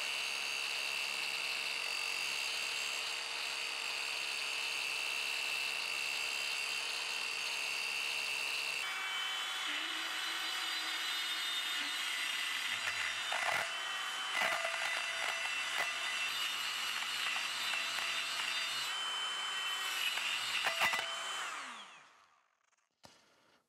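A power tool with a cutter notches wood for a capstan crank drive on a boat project, a steady high whine that turns rougher with grinding cuts, clunks and scraping, then winds down and stops.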